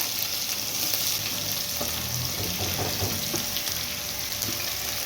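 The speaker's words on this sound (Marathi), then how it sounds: "आता आपण हिरवी मिरची आणि कांदा टाकून घेऊया" Green chili and chopped onion go into hot oil already holding cumin seeds while making kande pohe, producing a steady, loud, close sizzle with a few light stirring knocks and no talk.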